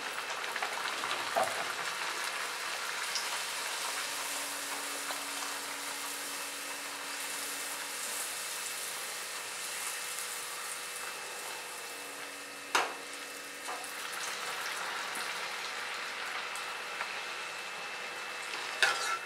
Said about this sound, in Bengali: যেহেতু এটা ডিপ ফ্রাই